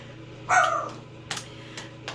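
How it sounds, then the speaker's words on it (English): A dog barks once in the background of an indoor room, a short bright yelp followed by faint scattered taps and a low steady hum. "my dog is barking in the background"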